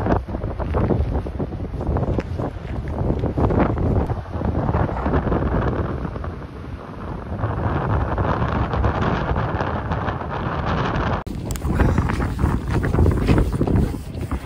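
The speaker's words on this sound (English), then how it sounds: "The intensity of the wind was so strong, it was pushing me back." Strong wind in Iceland roars and buffets the microphone in loud, continuous gusts that batter the mic throughout with no voices.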